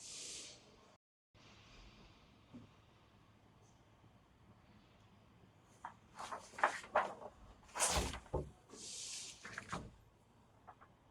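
A storage compartment door on an aluminum fishing boat opens and closes, giving a few close clunks and rattling knocks after a quiet stretch, with brief hissy scrapes between them.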